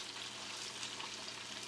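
Giant portobello mushrooms sizzle steadily in a pan just after flipping, a quiet continuous frying hiss with no talk over it.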